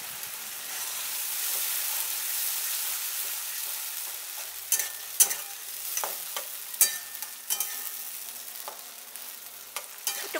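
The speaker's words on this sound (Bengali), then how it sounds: "একটু কষিয়ে নিচ্ছি এটা 1 মিনিট মতো" Green chilli paste and tomato paste frying in a pan for a raw jackfruit kofta curry, a soft continuous sizzle joined midway by several sharp scraping stirs of a spatula, close and without talk.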